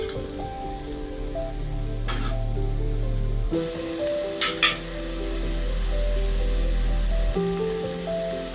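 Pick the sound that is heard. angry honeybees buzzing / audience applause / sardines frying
sardines frying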